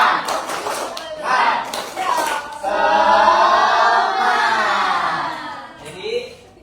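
Schoolchildren in a classroom perform a rhythmic group clapping routine, a few patterned claps followed by loud shouting and cheering voices together at close range.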